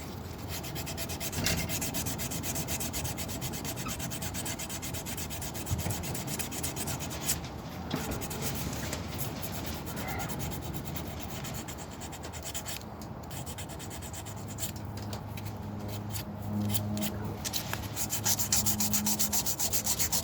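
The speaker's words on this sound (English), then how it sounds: "sand all the marks off the top of the fret" Steady back-and-forth sanding across the tops of guitar frets on a Goldtop Les Paul build, a continuous close scratchy rubbing that runs for about twenty seconds with only slight shifts in pressure and no talking.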